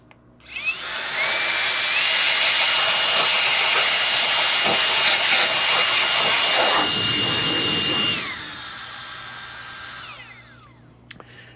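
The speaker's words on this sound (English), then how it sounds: "And then I'll use my little hand blower here." Small hand blower pushing a steady, loud hiss of air over freshly cleaned contacts on a B&W 334A 1 kW dummy load, running about seven seconds with a whining pitch that rises at start and falls away at the end.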